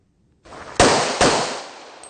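Two sharp gunshots at a military police shooting course, each a loud crack with a short decaying tail, about half a second apart over a faint background hiss.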